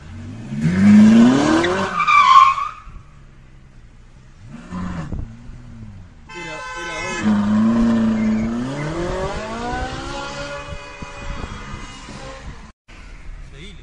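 A car engine revs hard in repeated rising sweeps, with tire skidding at the start, loud and close, while people shout excitedly over it.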